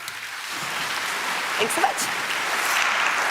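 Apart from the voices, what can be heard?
audience applause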